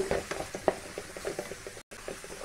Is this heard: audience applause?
no